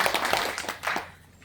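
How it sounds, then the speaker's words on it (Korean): Audience applause at a small Korean regional forum gathering, a dense patter of clapping that fades out after about a second, fairly close and moderately loud. "여러분 다시 한번 큰 감사의 박수를 부탁드리겠습니다"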